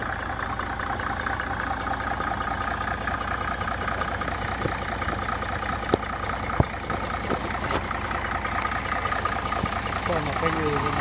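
A restored Case 930CK tractor engine idles steadily throughout, an even low mechanical rumble with a couple of faint clicks, while someone talks over it.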